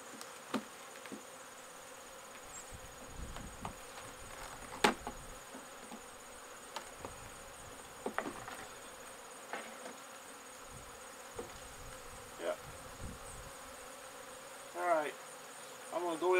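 Agitated honeybees buzz around a backyard hive in a faint, steady insect hum, with scattered brief knocks and louder passing buzzes as individual bees fly close.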